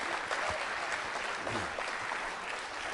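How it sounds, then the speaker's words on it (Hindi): Audience applause at a college Valentine's Day quiz show, a dense, steady wash of clapping filling the whole stretch with no talk over it. "तालियां बजाइए सभी के लिए जोरदार तरीके से"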